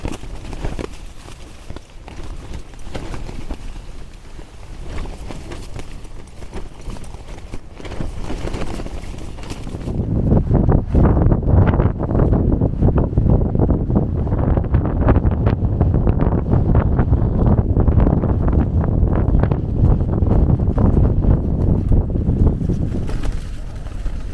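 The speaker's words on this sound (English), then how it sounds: "the wind really is picking up" Strong gusting wind on open moorland buffets the microphone, rising from a steady rush into heavy, loud roaring blasts that continue through the rest of the clip.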